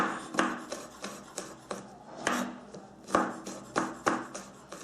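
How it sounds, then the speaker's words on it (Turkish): Garlic cloves chopped coarsely with a knife on a board, a dozen sharp, close knocks at an irregular, unhurried rhythm with no talk. "Soğanlardan sonra sarımsaklarımızı da çok ince olmayacak şekilde"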